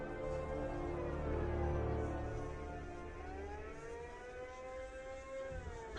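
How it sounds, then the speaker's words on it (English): A wailing siren, not a normal car siren, rises and falls slowly in the distance in the video game Batman: Arkham Knight, a long sustained tone over a low rumbling background, fairly faint. "I can hear a siren. Not a normal car siren though."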